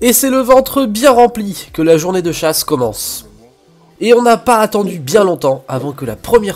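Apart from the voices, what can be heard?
No distinct noise like a dog, phone or traffic.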